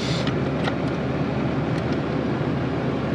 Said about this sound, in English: Man, this truck runs good.